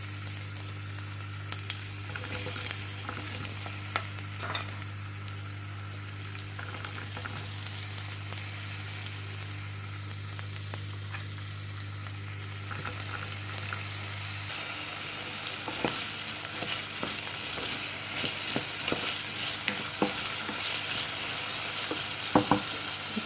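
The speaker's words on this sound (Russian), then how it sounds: "Сейчас пару минут поджарится картофель." Potatoes fry in a pan with crushed garlic: a steady, dense sizzle that fills the whole stretch, close and even, with scattered small pops and stirring clicks.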